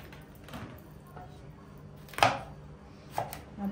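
Peppers being chopped with a knife on a cutting board for chicken skewers, a few sparse sharp knocks against a quiet kitchen background with brief talk.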